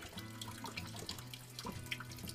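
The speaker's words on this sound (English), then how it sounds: "We also timed how quickly the water was filtering to determine whether or not it was performing at optimum capacity." Water runs from a household water filter in Nicaragua in a steady, close trickling stream with small drips and splashes, faint and continuous with no talk.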